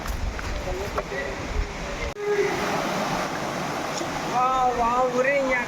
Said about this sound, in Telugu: ఇదే వాటర్ ఫాల్స్.